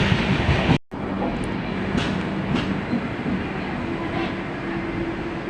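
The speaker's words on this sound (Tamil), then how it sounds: "ட்ரெயின் போயிட்டுருக்கு" A steady, loud rumble of a moving train near Sirkazhi, India, fills the space, with continuous rattling and clatter from inside a carriage.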